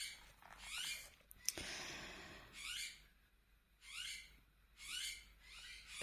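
Birds call softly in the background of a quiet room, repeated bursts of chirping coming every second or so, faint and somewhat distant, with no talking.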